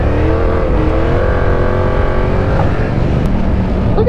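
A 2022 Yamaha R7 sport bike's engine drones loudly and steadily while riding, with rising harmonic tones over heavy wind rumble.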